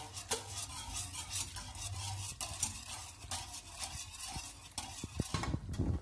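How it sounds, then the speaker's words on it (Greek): A wire whisk stirs a freshly cracked egg into melted butter and warmed milk in a pan. Quick rhythmic scraping strokes repeat steadily, then turn into heavier, faster clinks near the end. "σπάω το αυγό. Και ανακατεύω γρήγορα."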